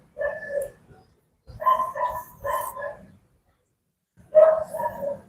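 A stray dog barks on a city street in a loose series of short bark bursts with pauses between them, clear and fairly close, with no talk over it.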